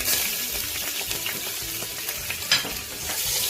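Green chillies and cumin seeds hit hot melted desi ghee, giving a steady, close crackling sizzle with a brief louder pop partway through.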